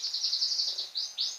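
A canary sings a run of bright, high chirping phrases, steady and fairly close, then ends with two quick rising sweeps, with no other sounds around it.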